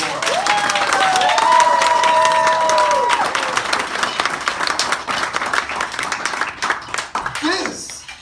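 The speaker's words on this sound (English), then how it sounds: "Let's give them a round of applause." Keynote audience breaks into loud, sustained applause with scattered cheers, a single voice calling out briefly early on before the clapping thins toward the end.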